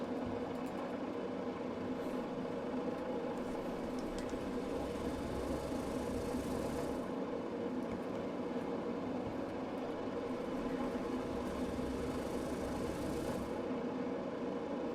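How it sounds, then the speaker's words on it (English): Engine start of a Boeing StratoLiner in Microsoft Flight Simulator: a steady low droning hum of piston engines running continuously at moderate, even volume, with no voices. "so we have our engine start"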